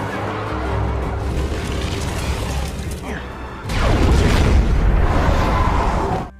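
A loud, deep diesel explosion bursts in partway through amid a crowd of zombies in a film, a heavy boom with rumbling debris following over dense background noise.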